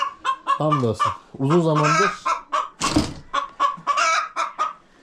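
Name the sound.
hens clucking in the coop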